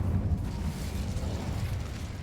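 Incendio fire spell cast in Hogwarts Legacy, a sustained roaring whoosh of flame with low rumbling bursts, loud and close, no talk.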